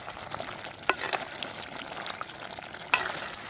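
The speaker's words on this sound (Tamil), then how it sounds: "இங்கே கத்திரிக்காயும் கடலையும் போட்டு எங்களுக்கு நல்ல பிரட்டல்." Eggplant and chickpeas stir-fry in hot oil in a village kitchen, a continuous close sizzle punctuated by a couple of sharp spatula scrapes against the pan.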